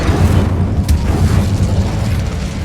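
An Incendio fire spell blasts a barricade in Hogwarts Legacy, a loud, dense booming burst that rumbles steadily through the whole moment with a brief sharp flare near the start.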